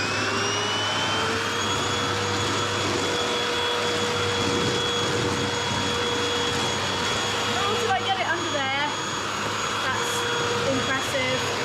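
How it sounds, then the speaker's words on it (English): A vacuum cleaner runs steadily and loudly, hoovering up dried mud indoors, a continuous motor drone with a whining tone and brief rattling bursts as debris is sucked up. "Dried is easy to hoover up, isn't it? I'm gonna do that quickly."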